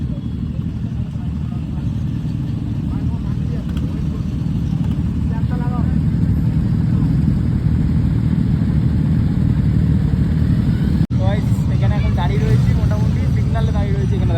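Motorcycles on a highway near a roadside dhaba pass at full speed, a steady loud engine and road roar with rising whooshes, under continuous talk.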